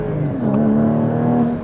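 A Porsche 981 GT4's engine revs hard through a downshift into first gear at a hairpin, a steady close, loud mechanical drone whose pitch dips and then climbs as the revs rise, with no voices over it.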